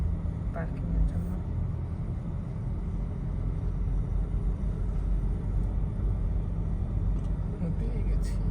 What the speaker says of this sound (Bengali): সবাই আসতেছে নামাজে, যে মানুষ ঘুরতেছে পার্কিং এর জন্য